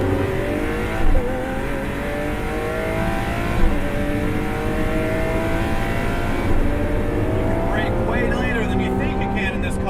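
A 2013 Lamborghini Aventador LP700-4 Roadster accelerates hard, its engine roaring loudly and steadily as the pitch climbs through the gears for the full stretch.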